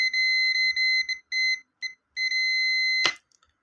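Multimeter set to continuity or buzzer range, used to test a three-phase contactor, gives a steady high-pitched electronic beep in several bursts of varying length, followed by a sharp click at the end.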